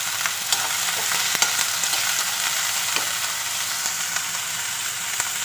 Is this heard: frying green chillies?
yes